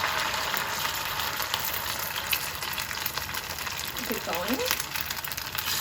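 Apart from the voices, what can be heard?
fish cake paste frying in hot oil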